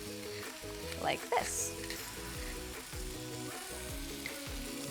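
Seasoned sweet potato filling with salt and cracked black pepper sizzling steadily in a pan, with a few scraping stirs of a utensil partway through and a brief spoken phrase over the frying.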